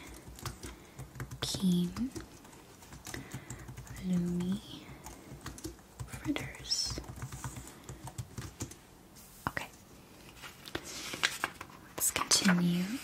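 Soft, uneven bursts of keyboard typing sound close up, broken by pauses and set against quiet whispered speech.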